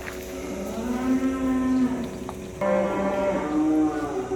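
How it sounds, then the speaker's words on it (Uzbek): Cows on a farm moo loudly and close by, two long drawn-out calls one after the other, with low barn ambience between them and no talking. "Mana shunaqa sigirlarni."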